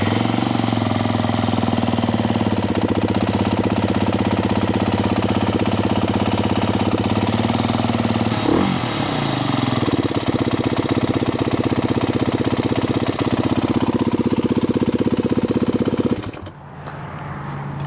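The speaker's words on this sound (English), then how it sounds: "let's fire this bike back up" A Beta 350 RRS four-stroke EFI dirt bike engine runs at a steady, loud, close idle with a rapid tick and clatter, one brief blip midway, then cuts off near the end.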